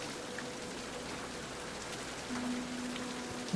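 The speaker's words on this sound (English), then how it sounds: "this rain should help this tree grow." Steady rain falls in the video game King's Quest, a soft, even hiss with faint drips that holds through the whole stretch, with no one talking over it.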